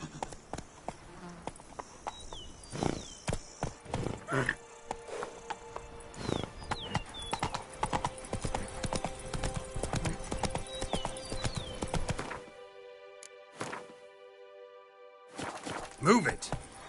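Horse hooves clip-clop steadily at a gallop in The Witcher 3, close and continuous for most of the clip with occasional whinnies and snorts, a short voice shout, and a brief drop to quiet near the end.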